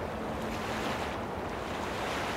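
Ocean waves on a shore, a steady broadband wash of surf with wind noise, constant and moderately faint with no distinct breaks and no voices.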